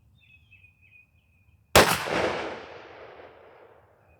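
A Mossberg 835 12-gauge shotgun fires a single Winchester Longbeard XR 3.5-inch 2-1/8 oz #6 turkey load with a Rectifire choke, a sharp loud blast with a long decaying echo outdoors after a quiet bird-chirping stretch.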